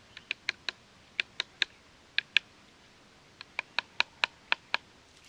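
A nuthatch pecks open a seed in a tree in Sequoia and Kings Canyon National Parks: a series of sharp, dry taps, about a dozen in irregular bursts, close and crisp with quiet gaps between.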